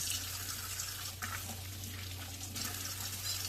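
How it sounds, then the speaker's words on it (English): Vegetables are rinsed under a running tap, with a steady, soft hiss of flowing water and occasional splashes, heard close but at low volume with no talking. "Now these, I'm going to give them a good rinse."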